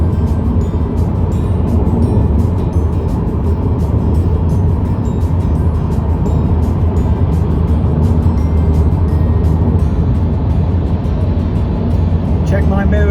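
Car cruising along a motorway while overtaking a lorry, a loud constant rumble of engine, tyre and wind noise that holds steady throughout with no change in pace.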